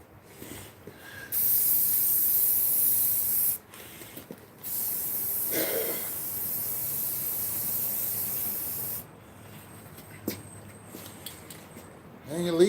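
Gray primer hisses from an aerosol can onto a refrigerator in several sustained bursts, close and steady, separated by short pauses with faint handling noises.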